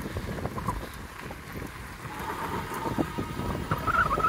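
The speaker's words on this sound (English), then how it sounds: "Oh, that wind is horrible." Wind buffets a moving vehicle, making a steady low rushing roar that swells and fades, with no talk.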